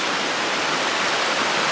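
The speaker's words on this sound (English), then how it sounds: "I'm going to walk down that way now and show you the waterfall." A waterfall roars as a steady, loud, broadband rush of falling water, continuous and close, with no voices over it.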